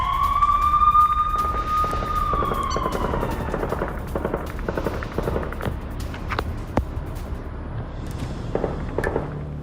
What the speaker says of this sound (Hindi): लेबनान बॉर्डर पर भीषण गोलीबारी हो रही है।